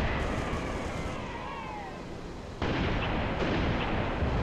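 Gunfire in the video game Halo: Reach during a multiplayer match: a dense, loud wash of shots and blasts that fills the whole stretch, with a sharp jump in intensity partway through.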